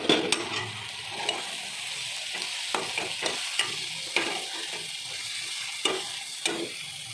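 Brinjal frying in a pan for brinjal thokku, with a steady sizzle broken by repeated sharp scrapes and clicks of a spoon stirring, close and alone with no talk.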